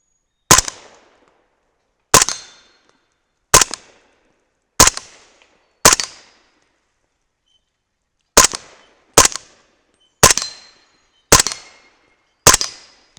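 Ten sharp, loud shots ring out from a 300 BLK rifle firing subsonic powder-coated bullets at steel plates, spaced one to two seconds apart with a pause midway, each followed by a quick decaying ring.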